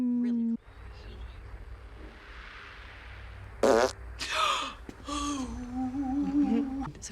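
A comedic fart sound effect from the 2016 Ghostbusters film, with a short, loud, sputtering burst partway through and voices talking around it.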